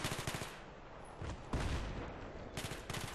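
Full-auto gunfire from a Famas rifle in the video game Battlefield 3, rapid rattling bursts that open the stretch and return at the end, with a heavier boom in the middle and no talk over it.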